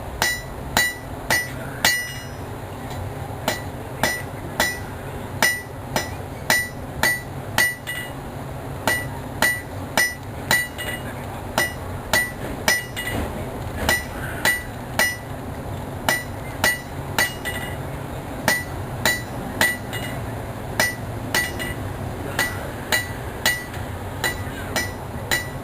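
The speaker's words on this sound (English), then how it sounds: "I'm going to clean up that end just a little bit by tapping it with a hammer." A hammer strikes hot metal on an anvil again and again, sharp ringing blows in a steady rhythm, sometimes in quick pairs, with no voices, at a county fair.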